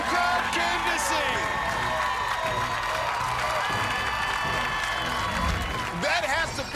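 Houston crowd at the American Ninja Warrior Season 7 finals roars with sustained cheering, whoops and applause, loud and continuous throughout, swelling again near the end.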